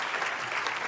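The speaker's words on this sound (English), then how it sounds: "is this clapping over here?" Steady applause from an audience during a real estate livestream podcast, a dense wash of clapping hands held at an even level without a break.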